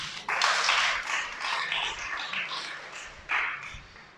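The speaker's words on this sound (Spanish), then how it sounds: "Dale un aplauso al Creador." A small audience at a Torah teaching session gives a short round of applause, with the clapping swelling, easing, then briefly picking up again near the end.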